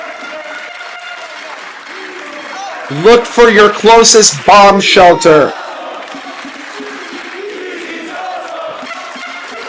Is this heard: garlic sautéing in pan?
no